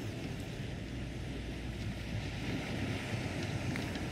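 A ship sails across open sea in a video game, with a steady, broad wash of waves and wind rushing continuously at an even loudness throughout.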